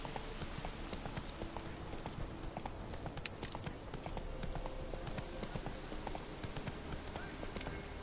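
Hooves clop in a quick, even trot in The Witcher 3 video game, dense repeated hits close up over a busy background, with no clear talk.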